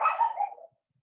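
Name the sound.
dog barking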